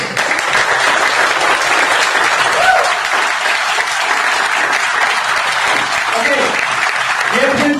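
An indoor audience at a product demonstration claps loudly and steadily throughout, with a few voices faintly audible under the applause.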